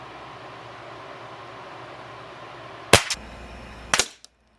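Two sharp shots from a Crosman 362 .22 caliber air rifle ring out about a second apart over quiet background hiss, each a crisp crack with a brief tail.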